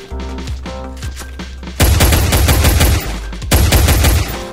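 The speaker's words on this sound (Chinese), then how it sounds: "我用手枪打好" Pistol gunshots in the Free Fire mobile game's zombie siege mode: a sparse few shots first, then a loud, rapid burst of repeated shots with booming low impacts, close and with no talking.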